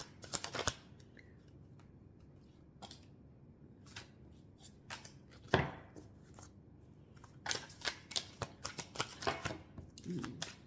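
Tarot cards being shuffled by hand, soft crisp riffles and flicks in scattered bursts with several cards slipping out, close and quiet, with someone speaking between them.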